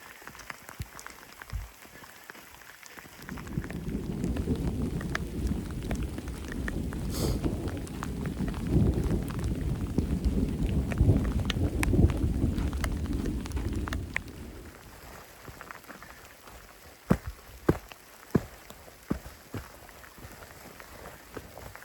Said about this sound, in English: The worst of the storm is behind me now.